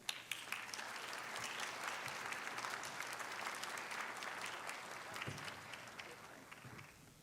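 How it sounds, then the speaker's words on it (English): A lecture audience gives a warm round of applause to a speaker at a jewelry history event. The clapping is dense and continuous, fairly distant and quiet, and fades slightly toward the end. "Let's give a hearty, warm round of applause to Jane Hickman."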